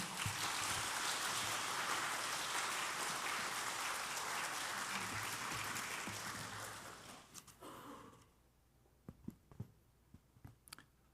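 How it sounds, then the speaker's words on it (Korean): A church congregation at a Sunday service applauds to welcome the preacher, a dense, sustained roomful of clapping that tapers off near the end, leaving a few scattered sounds in a quiet hall. "우리 나오실 때 박수로 환영하겠습니다"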